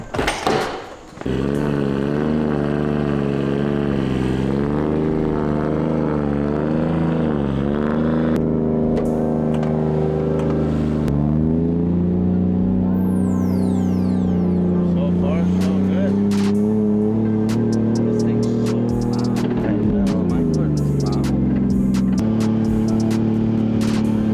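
BMW E30 drift car with a 1JZ engine on a test drive, loud throaty engine droning and revving up and down close by for the whole stretch, with speech heard over it.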